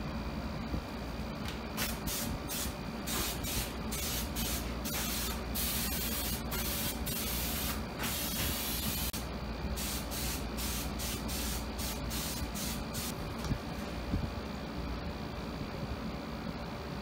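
Spray adhesive for gluing upholstery foam on a Chevelle rear seat hisses from a can in a long series of loud, close bursts, some short and some sustained, with no speech.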